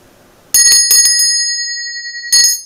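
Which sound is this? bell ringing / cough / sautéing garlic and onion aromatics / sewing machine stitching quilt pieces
bell ringing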